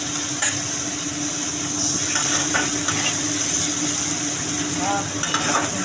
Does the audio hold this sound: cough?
no